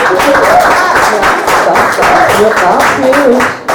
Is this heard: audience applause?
yes